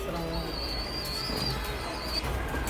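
Pigeon cooing from a kept flock of fancy and flying pigeons, a soft low repeated coo over steady background noise with faint bird chirps.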